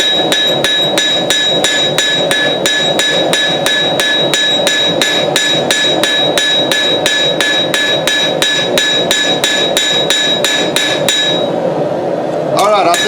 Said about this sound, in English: Heat up the whole area, and hit it with the flat of your hammer down until this back end straightens out